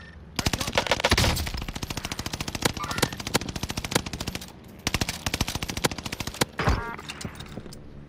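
Automatic weapon fire in the video game Warzone Pacific, loud and close, with long strings of rapid shots broken by short pauses across the whole stretch.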